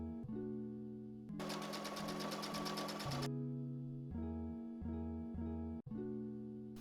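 A sewing machine runs a basting stitch along the top edge of a dress's lining skirt, a steady rapid whir lasting about two seconds amid quiet background music, with no talking.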